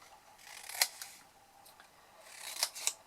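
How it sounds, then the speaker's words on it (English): Scissors snipping the corners of a paper candle box into tabs and wedges, a few crisp close cuts with soft paper rustle between, quiet and without talk. "So just simply cut straight down the side of one and then cut our wedges."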